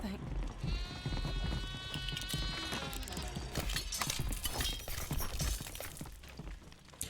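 A goat in the game Sker Ritual gives a drawn-out, wavering bleat, followed by a busy jumble of clattering hits and game noise while a voice talks over it.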